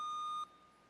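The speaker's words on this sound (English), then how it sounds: "Can you buzz in and test your buzzer" A quiz buzzer at a middle school science bowl championship sounds a single clean electronic beep lasting under half a second, then the room falls quiet. No one speaks.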